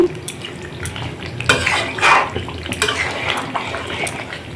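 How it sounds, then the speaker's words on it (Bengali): Whole garam masala being stirred into a pot of cooked meat over low gas: a steady scraping and clinking of a spoon against the pot, with light sizzling and a few louder stirs, close by and with no talking. "এবারে গোটা গরম মশলা দিলাম দিয়ে এবার নেড়ে দিচ্ছি"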